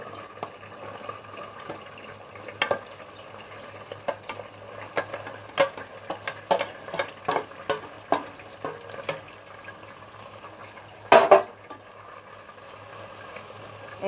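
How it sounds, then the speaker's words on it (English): Onion is stir-fried in a pan, a soft sizzle under frequent close spatula taps and scrapes, with one louder clatter near the end. "now it's the time to fry the onion"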